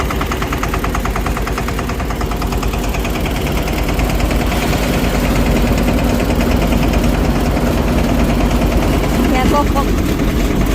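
A small farm tractor's engine runs at a steady, loud, rapid chugging idle that fills the whole stretch without letting up.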